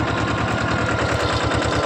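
A mini tractor drags a cultivator across a sesame field, the small engine putting out a fast, even, percussive chug at close range, loud and continuous with no voices.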